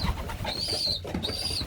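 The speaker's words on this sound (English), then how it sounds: "That's actually a beautiful little pigeon, this one." A young pigeon coos close by in a loft among other young birds, two soft rolling calls in steady succession with no talking.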